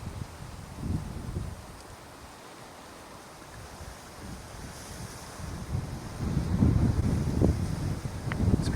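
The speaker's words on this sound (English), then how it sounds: "It's become very windy here again this morning." Strong wind buffets the microphone in gusts on a morning near lions at a kill in Manyeleti, low rumbling roars that ease in the middle and build louder toward the end, with no voices.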